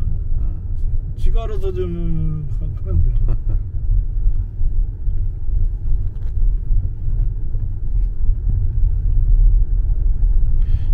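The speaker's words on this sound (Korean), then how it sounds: "오르막이 훨씬 더 차가 올라오잖아, 힘있게." A car's engine drones with a steady low rumble while climbing uphill, heard from inside the cabin beneath ongoing conversation.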